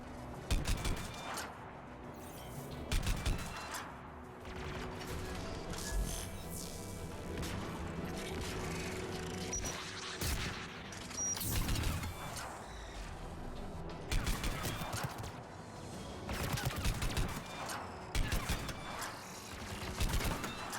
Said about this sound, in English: Anti-aircraft guns are up ahead.